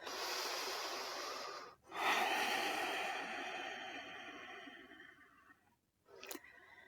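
Slow, deep breathing during a prenatal yoga session: long, soft breaths drawn in and out close up, with brief pauses between them and no talking.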